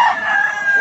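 A rooster crows at a busy chicken market, one loud, sustained, close cry carried over a short stretch.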